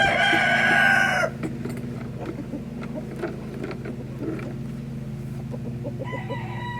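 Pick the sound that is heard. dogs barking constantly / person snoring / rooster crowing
rooster crowing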